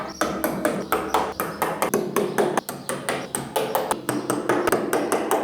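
Rapid series of sharp metallic taps as a screw is struck against a hole in a wooden door to mark it, close and steady, roughly two to three hits per second with no talking.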